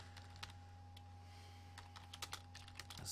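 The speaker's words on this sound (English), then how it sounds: "Sorry, I forgot to talk while I was typing again." Keys on a computer keyboard clatter in irregular bursts of quick taps, close and crisp over a steady electrical hum, while someone types code for a Blender Game Engine tutorial.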